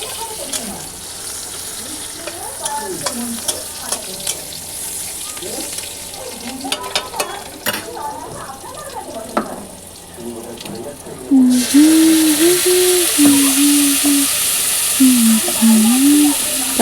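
Spices frying with lightly browned onions in a hot pan, stirred through a steady sizzle, with clattering utensil scrapes and a louder hissing burst later on; a voice speaks briefly over it.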